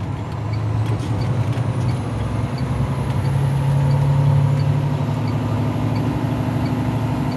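A truck rolls forward in a low gear after the brake is let off, its engine rumbling steadily and close by, with a faint high whine over the drone and no talk.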